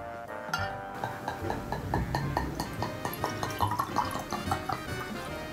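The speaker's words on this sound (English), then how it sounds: "Let's go ahead and pour us a glass now" Texas wine poured from a bottle into a glass, a close, steady liquid stream with a rhythmic glugging pulse lasting several seconds after a brief quiet start.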